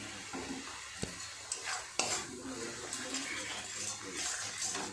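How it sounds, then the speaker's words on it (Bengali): Spice masala frying in a pan for chana paneer with salt added, stirred with a spoon: a steady soft sizzle with a few sharp scraping clicks and knocks of the utensil against the pan, fairly quiet, no talking. "খুব ভালো করে একটু সময় নিয়ে সমস্ত মশলাটা কষিয়ে নেব"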